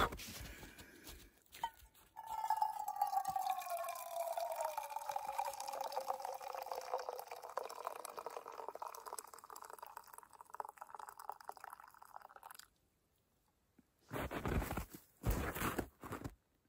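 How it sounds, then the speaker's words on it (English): Hot coffee poured outdoors on a trail into a cup, a steady trickling stream whose pitch rises as the cup fills, then stops, followed by light handling sounds. "we're going to pour ourselves a cup"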